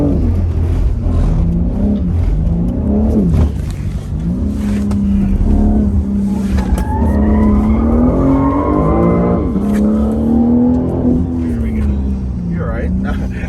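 A BMW M3 driven hard on a track, its engine droning loudly with tires squealing through corners, while people talk over the noise inside the car.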